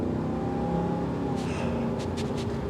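A 2022 Ram 2500 Power Wagon engine, rated at 410 horsepower, holds a steady, deep idle-to-rev drone close by with no talking, while a few brief clicks and rattles sound near the end.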